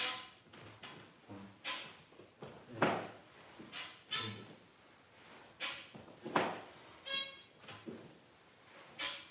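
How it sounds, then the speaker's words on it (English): A ballet practice barre creaks and squeaks in repeated sharp bursts, each one loud and close and separated by short pauses, with no speech over it. "Looks like my bar is complaining, making all sorts of squeaky noises"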